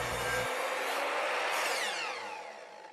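A table saw cuts through a wooden crosscut sled, a loud sustained whining, rasping cut that holds steady and then tapers slightly toward the end, with no talking.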